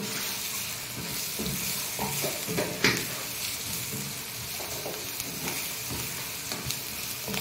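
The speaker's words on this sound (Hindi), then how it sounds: "मसलाटा को भल भाव मिक्सिंग करदेवा देखु" Masala being stirred in a hot frying pan for a Ganjam-style Odia chana aloo curry, with a steady loud sizzle and scraping strokes of the spoon that stand out now and then, with no talk.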